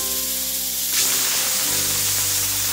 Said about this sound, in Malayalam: കുക്കർ അടച്ച് മീഡിയം തീയിൽ 4 വിസിൽ വരുന്നത് വരെ വേവിക്കാം.